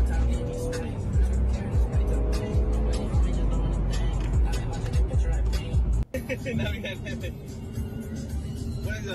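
Engine of a new BMW G-series car with a turbo, a loud steady drone close by with tire and road noise at a street-racing meet, a brief dropout near six seconds, while people talk over it.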